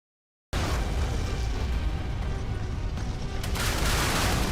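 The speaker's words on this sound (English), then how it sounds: "cannon is quite powerful as it can rain salvo after salvo in a brief period on your enemies" Naval cannon salvos in the Modern Warships video game: a dense, continuous barrage of booming gunfire that starts abruptly and rumbles on without pause, loud and close, with no voices.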